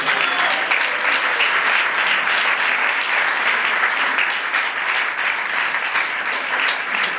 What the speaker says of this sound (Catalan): Fa un aplaudiment encara.